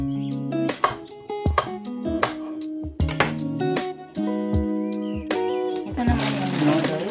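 A knife chops organic garlic on a board in a home kitchen, with a series of sharp, close taps at an irregular pace and some glassy clinks, while a person talks over much of it.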